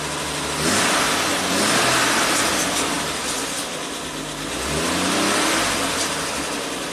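A 1967 Triumph GT6 engine, parked since 1999, runs steadily up close with repeated rev swells, loud and continuous, with no voices.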